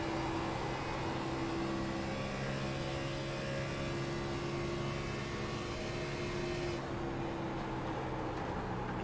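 Race car engine droning steadily at a Midwest Days of Thunder Cup playoff race at Kentucky, heard onboard while lapping inside the leader's car through turns 1 and 2, loud and continuous with a sustained tonal hum and no voices.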